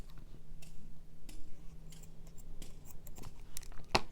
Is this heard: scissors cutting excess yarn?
yes